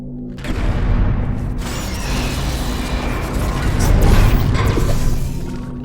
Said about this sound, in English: And there's explosions again.